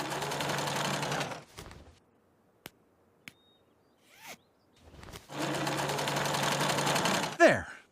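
A sewing machine whirs in two steady bursts of rapid stitching, separated by a quiet pause with a few small clicks.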